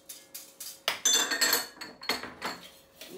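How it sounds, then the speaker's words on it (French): A utensil mixing madeleine batter with orange zest in a bowl, giving close, repeated clinks and scrapes against the bowl in a steady rhythm. "Il faut bien mélanger le tout."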